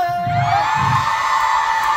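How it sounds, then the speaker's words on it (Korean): A large festival crowd at a K-pop idol performance roars and shouts loudly and continuously in a sustained wall of cheering, with a high voice ringing over the noise. "아 역시 5세대 아이돌 다운 함성"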